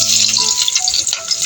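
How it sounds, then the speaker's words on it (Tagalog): Garlic, onion and ginger sautéing in a hot pan give a steady close sizzle and crackle, with a few soft stirring scrapes and no talking. "Nilagisa na tayo ng ating bawang,"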